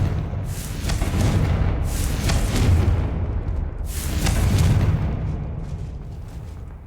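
Spell explosions in the Hogwarts Legacy video game, heavy rumbling booms that swell and fade over several seconds, two big blasts rolling into one another with dense low roar and no voices.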